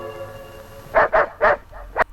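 A police dog in a 1959 British film barks five times in quick succession, sharp and close, after a few seconds of quiet hum.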